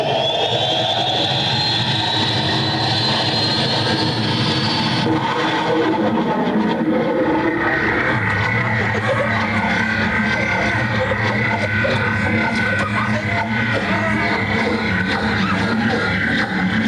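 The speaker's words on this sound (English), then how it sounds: "Orbiter 5, you're cleared for takeoff." A simulated spacecraft takeoff on the Moon Flight ride at Blackgang Chine in 1989: a steady high whine and broad roaring rumble that shift abruptly a few seconds in, then a continuous loud jet-like roar with rattling texture to the end.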